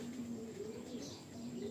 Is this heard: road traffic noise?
no